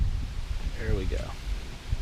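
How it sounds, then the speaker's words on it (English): Strong gusty wind blusters outdoors across a street from a fire station near a burning mason-jar cotton wick torch, a steady low roar with a voice briefly talking partway through. "It's really windy today."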